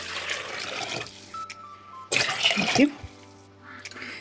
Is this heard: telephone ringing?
no